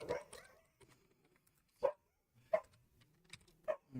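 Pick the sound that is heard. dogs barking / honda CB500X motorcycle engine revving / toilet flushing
dogs barking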